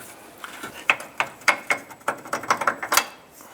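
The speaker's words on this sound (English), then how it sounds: "Might have to use a pry bar to try and wiggle this bolt out." Pry bar working a lower control arm bolt back and forth on a 2005-2010 Jeep Grand Cherokee, giving a rhythmic series of sharp metallic clacks and ratcheting knocks, close up with no talking.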